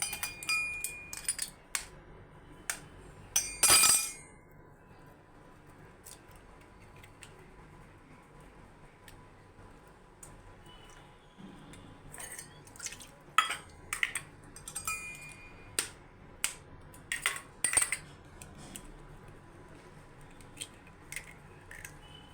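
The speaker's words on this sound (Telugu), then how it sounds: "ఇలా వేసుకున్నాక ఇవి మొత్తం మిక్స్ చేసుకోవాలన్నమాట బాగా." Ingredients being mixed in a bowl: sparse, faint clinks and scrapes of a utensil against the bowl, with a few sharper knocks and long quiet gaps between.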